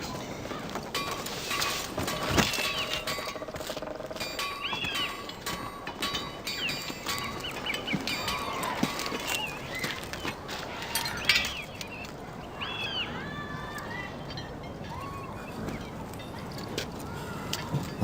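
Several horses' hooves clip-clopping steadily on hard ground in a film scene, a busy continuous patter mixed with faint birdsong and background voices.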